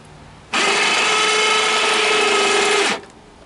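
An electric winch mounted on a CF Moto 400 ATV runs for about two and a half seconds in a test, a loud steady motor whine with a constant hum that starts and stops abruptly, heard alone.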